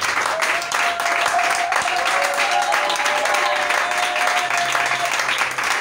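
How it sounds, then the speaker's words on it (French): A church congregation applauds during a worship service, a steady wash of clapping sustained throughout with a voice and some background tones faintly underneath. "Je te demande d'acclamer Jésus."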